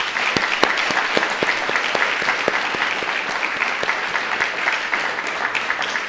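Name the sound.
audience applause for speakers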